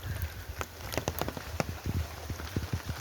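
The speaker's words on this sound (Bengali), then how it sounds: "বৃষ্টি বন্ধ হচ্ছে না" Rain drips onto hard surfaces during all-day rainfall, a quick irregular run of close, distinct taps and plops over a soft background patter, with no voices.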